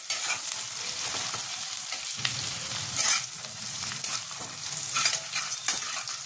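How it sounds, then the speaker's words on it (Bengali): Onions frying with a pinch of salt in a pan for a soybean kofta curry: a steady close sizzle with stirring scrapes and a few louder clatters, no voices. "পেঁয়াজটাকে প্রথমে লাল লাল করে ভেজে নেব।"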